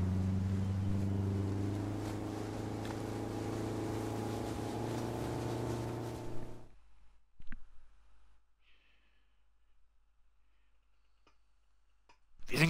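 A ship in GTA Online gives off a steady low engine drone for about six seconds, then cuts out to near silence broken by a few faint clicks.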